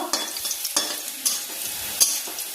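Chopped garlic frying in a pan, a bright continuous sizzle broken by several sharp stirring scrapes, close and fairly loud, no voices.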